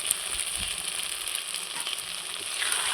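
Rohu fish curry (kalia) with garam masala frying in a pan, a steady bright sizzle and crackle with faint stirring movements underneath.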